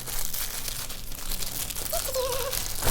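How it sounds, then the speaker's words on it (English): Product packaging is crinkled and torn open during an unboxing, a loud, close, continuous rustle of plastic and paper with a brief squeaky scrape near the end. "Sorry if all this packaging is a little loud."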